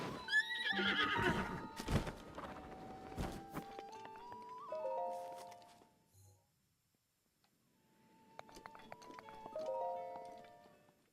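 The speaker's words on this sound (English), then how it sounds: "Did this horse just try and jump over a tree?" A horse whinnies and hooves thud and clatter in Breath of the Wild, with scattered game sound effects; the activity pauses briefly then resumes more softly.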